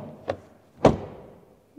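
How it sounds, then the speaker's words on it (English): The rear door of a Mazda CX-80 SUV shuts twice, a light knock followed by a louder, solid thud that rings out briefly, close by and with no talking. "what about the rear door closing sound?"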